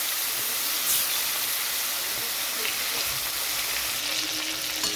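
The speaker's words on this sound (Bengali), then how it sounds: "কড়াইতে সাদা তেল গরম হয়ে গেছে, তো এখানে আমি চিকেনগুলো ভাজার জন্য দিয়ে দিচ্ছি।" Chicken pieces frying in hot white oil in a kadai produce a steady, dense sizzle and hiss that stays even throughout, with no talk.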